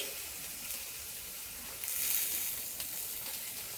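Chicken souvlaki skewers sizzle on a grill as they are turned, a close continuous hiss and crackle that swells briefly midway, with no talking.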